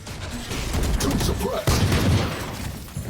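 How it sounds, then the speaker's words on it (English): Gunfire from the video game Valorant during a tournament semi-final match, with rapid bursts of shots and sharp impacts close up, packed densely across a few seconds with a faint voice in the mix. "Some shots have been exchanged."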